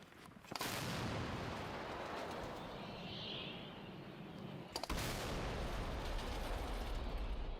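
A single artillery gun shot near the front line, a loud sudden blast followed by a long rumbling tail, with a second sharp crack later amid continuous wind-like noise.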